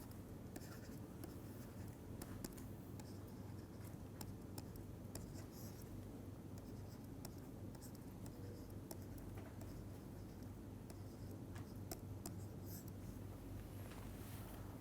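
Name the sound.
writing down equations during a lecture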